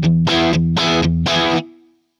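Electric guitar on a clean setting through an Amplitube 5 Marshall JCM800 simulation with a 4x12 cabinet of Vintage 30 speakers, played as three steady strummed chords in even rhythm, loud and close, alone, with a short ringing tail.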